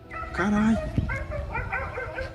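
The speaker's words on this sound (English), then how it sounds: "he started hearing dogs barking, along with wolves howling" Several dogs bark and yelp in an overlapping, tonal run, fairly loud and close, with some whining mixed in.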